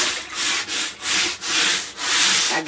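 Scrubbing a stained, discolored polyethylene water tank with a brush: five steady rasping strokes in a regular back-and-forth rhythm, loud and close, with brief pauses between strokes and no talking.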